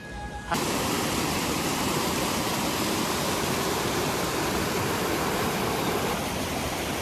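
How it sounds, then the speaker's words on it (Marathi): The Savatsada waterfall near Guhagar, Maharashtra, a dense, steady roar of falling water that starts abruptly after a brief lull and stays loud and constant throughout. "हो बघा धबधबा."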